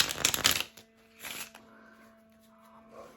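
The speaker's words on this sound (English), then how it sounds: "We're going to shuffle this a few times and pull a card and pick an item." A deck of cards is riffle-shuffled close up, a fast burst of flutter followed by a second shorter riffle, with a faint steady hum underneath.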